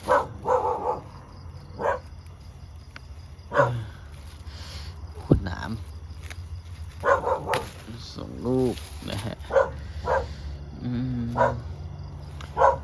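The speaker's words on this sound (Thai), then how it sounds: "เสียงหมาก็เห่าจังฮะหมาที่บ้านนี่แหละครับ" A household dog barks repeatedly at home, in short sharp bursts with some whimpering yips in between. Someone talks over the barking throughout.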